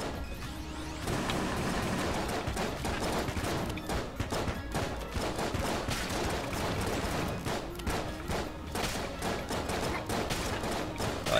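Enemy shotguns in the Enter the Gungeon video game fire in dense, overlapping blasts throughout, a steady loud barrage mixed with game music and effects.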